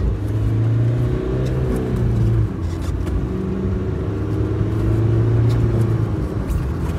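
A black 2020 Mahindra Scorpio SUV engine heard from inside the cabin while driving on an empty road: a loud, steady rumble that rises and eases through a few revving swells.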